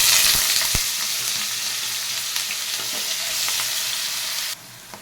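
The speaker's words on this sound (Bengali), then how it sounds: "তো এই আলুটাকে আগে আমি ছেড়ে দিচ্ছি, তেলটা আমার গরম হয়ে গেছে।" Potatoes dropped into hot oil fry with a loud, continuous crackling sizzle that holds steady throughout before briefly dropping in level near the end; no voices.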